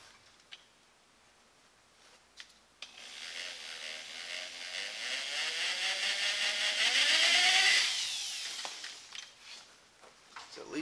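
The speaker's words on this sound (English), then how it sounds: "I'm gonna take just a drill bit, find the bolt, and then just hit it with that on the bolt head" A drill bit spins up and grinds against a bolt head on a Toyota 4Runner TRD Pro for several seconds, its whine rising and wavering before stopping, with a few knocks around it.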